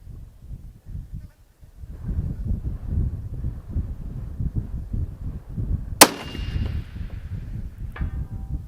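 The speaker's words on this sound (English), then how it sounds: "Let's just keep popping out some shots." A .308 DMR rifle on a windy range: one sharp, loud shot with a ringing tail, then a fainter distant impact, over constant heavy wind rumble buffeting the microphone.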